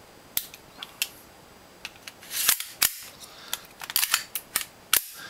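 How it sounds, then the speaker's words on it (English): A Marui G17 Caspian Glock airsoft pistol is test fired, giving sharp snapping shots at irregular spacing, some in quick pairs, loud and close in a quiet room. "So here's a test fire of my Caspian Glock."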